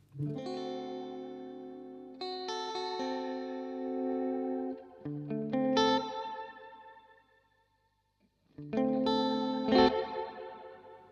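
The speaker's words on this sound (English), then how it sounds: "This is chorus now." Sustained, bright harmonic tones shimmer and waver under a chorus effect blended with reverb, swelling in several loud chords that ring out and fade, with a brief near-silent gap before the final chord.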